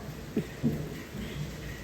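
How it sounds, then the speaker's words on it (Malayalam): Low rumbles of thunder roll beneath a constant hiss of heavy rain, with two soft thuds early on. "ഇവിടെ നന്നായിട്ട് ഇടിയും മിന്നലും നല്ല മഴയും"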